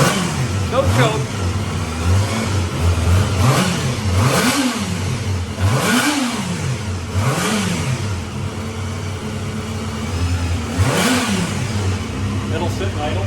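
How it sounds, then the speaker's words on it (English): Barn-find Honda MC19 CBR250RR four-cylinder motorcycle idling without the choke after sitting 18 years, a steady close engine burble with repeated rising and falling throttle blips, while people talk nearby. "Sitting there and idle without the choke."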